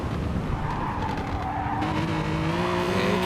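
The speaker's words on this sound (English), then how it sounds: "You hear it scuffing the tyres, so it's definitely not got a lot of grip." A Hyundai race car at Brands Hatch scuffs its tyres through a corner, a rough continuous tyre scrub and squeal over engine noise, heard from trackside at moderate distance without talk.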